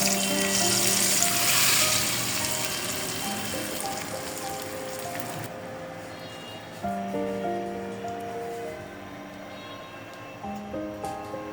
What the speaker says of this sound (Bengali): আমরা বাগারটা ঢেলে দিলাম